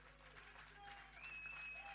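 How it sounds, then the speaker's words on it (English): An audience at a film trailer launch event bursts into applause, a soft wash of clapping that builds slightly toward the end, heard from a distance with faint tonal sounds in the room. "One big round of applause for Anshul."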